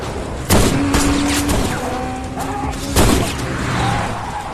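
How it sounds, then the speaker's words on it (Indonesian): Pistol fire in a Korean action drama rings out as several sharp, loud shots spread over a few seconds, two striking hardest, over a busy backdrop of engine noise and faint tonal effects. "Karena terus-terusan ditembaki oleh Gang Jae."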